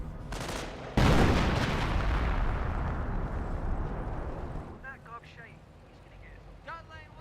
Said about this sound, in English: Looks like I got sector artillery in this sector